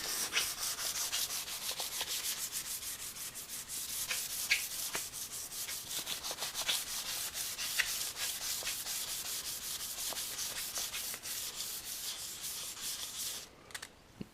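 Fine-grit sandpaper rubbed gently over the satin lacquer finish of a guitar neck, a continuous close hiss of quick scrubbing strokes with small clicks, steady throughout and no voices.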